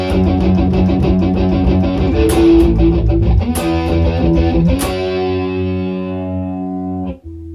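Heavily distorted electric guitar strums chords, loud and close, with sharp rhythmic attacks and sustained ringing chords that end in an abrupt stop, with no voices.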